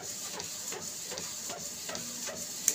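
An Epson L series inkjet printer prints a photo with bulk ink, its print head shuttling in a regular rhythm of soft swishes and faint clicks, quiet and close with a small click at the end.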